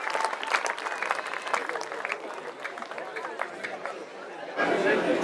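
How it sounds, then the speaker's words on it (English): An audience at a kit handover event at White River Country Club claps steadily and fairly close, mixed with chatter and crowd murmur, before the sound shifts abruptly near the end. "Please give this man a rousing round of applause"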